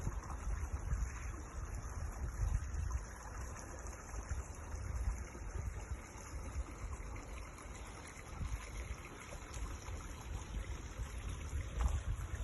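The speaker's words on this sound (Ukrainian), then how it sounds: "ви почуєте, як жива вода журчить. Л'ється, л'ється." Steady rushing and gurgling water flows continuously with a low rumble, fairly close, with no voices.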